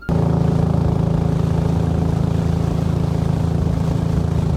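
A motorboat on the Sangu river heading through hill country, its engine droning steadily and loudly with a low hum and no break for the whole stretch.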